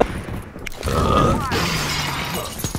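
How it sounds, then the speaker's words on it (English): Glass shatters in a sharp crash in a video game, followed by tinkling fragments and some electronic game sounds; a voice grunts briefly nearby. "you have to break the glass first"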